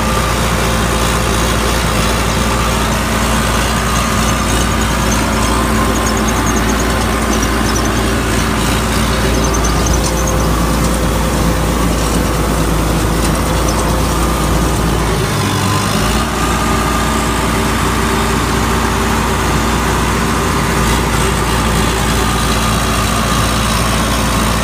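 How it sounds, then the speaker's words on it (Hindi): A Sonalika Tiger 60 hp four-cylinder tractor diesel engine idles steadily for a long stretch, loud and close, with a constant low rumble and a brief dip partway through. "ये अपना सोनालिका टाइगर है जी, 60 हॉर्स पावर के 4 सिलेंडर इंजन आ"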